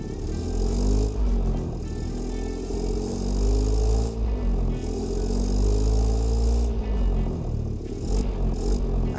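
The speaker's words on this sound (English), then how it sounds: "this noise that you are hearing at high RPM, you will only hear that if the milkman decided to race a car" Milk van engine in the BeamNG driving game revs hard at high RPM, a loud continuous droning whine with rising and falling pitch sweeps and a rattling edge, no talk.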